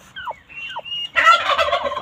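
A turkey gobbles loudly nearby after a few short bird chirps, the rattling gobble filling the last second.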